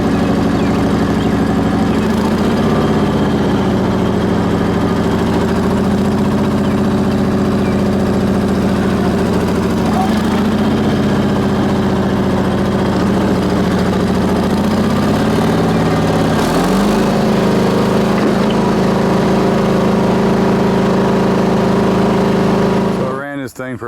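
A small Onan BF engine runs steadily at close range, its carburetor being adjusted so the drone rises and falls slightly in pitch over time, ending with a brief clatter as it shuts off.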